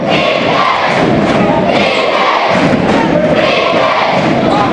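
A packed high school gym crowd at a boys' basketball game roars loudly and continuously, a dense wall of cheering and shouting with thumps and no break.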